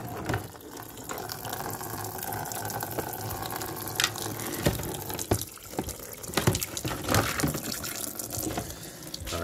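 Water spraying from a hole in a sewer jetter plug attached to a pressure washer while unclogging a kitchen sink, a steady rushing hiss with scattered clatters and knocks, close and moderately loud.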